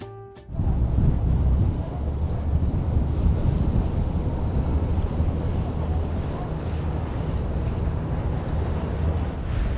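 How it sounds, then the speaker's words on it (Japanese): Rough open-sea waves surge and break around a small cruise boat off Iki island, a constant loud wash of surf mixed with heavy wind buffeting the microphone, no voices. "うわ、ちょっと波が高くなった。"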